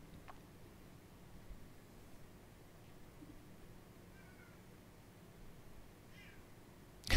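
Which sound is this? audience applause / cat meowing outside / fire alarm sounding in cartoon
cat meowing outside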